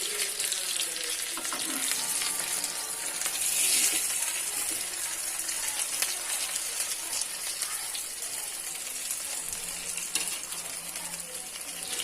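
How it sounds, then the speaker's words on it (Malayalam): Mackerel coated with oats frying in coconut oil over a medium flame, a steady dense hiss and crackle that continues evenly throughout, close by and with no talking. "അപ്പം മീൻ വെളിച്ചെണ്ണയിലേക്ക് ഇട്ട് കൊടുത്തിട്ടുണ്ട്. അപ്പോൾ നമുക്കിതൊന്ന് മീഡിയം ഫ്ലെയിമിൽ ഇട്ടിട്ട് ഒന്ന് വേവിക്കാം."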